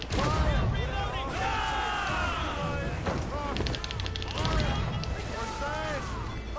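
Ship cannons booming during naval combat in Assassin's Creed Rogue, with several broadband blasts spread across the clip under near-constant shouted crew orders and game voices.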